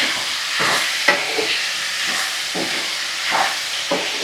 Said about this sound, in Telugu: ఇప్పుడు ఉడికించుకున్న బీట్రూట్ దీంట్లో వేసుకుందాం. తాలింపులో వేస్తున్నాను.